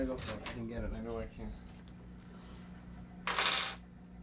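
Keys jangle in a brief loud burst after a stretch of background talk and room noise, a quick metallic rattle close to the mic.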